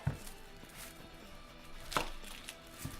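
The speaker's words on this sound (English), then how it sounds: "first we're gonna start off with cutting up the onion" Quick knife chops on a cutting board as an onion is cut for tacos, a handful of crisp close strikes spaced irregularly over quiet room tone.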